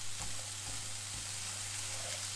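Mince beef and onion frying in a pan for a pie gives a steady, quiet sizzle with faint stirring scrapes, and no voices.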